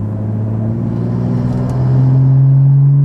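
A BMW 435i with a Stage 2 tune and anti-lag holds a steady engine drone that climbs gradually in pitch as revs rise toward 3,000, loud and close from inside the car.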